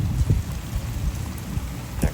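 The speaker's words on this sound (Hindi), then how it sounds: "इतनी तेज़ बारिश है कि हमारी आँख खुल गई है, और साथ में आंधी है।" Heavy rain drumming hard and steadily in a morning storm with strong wind, with a low rumble beneath the constant hiss.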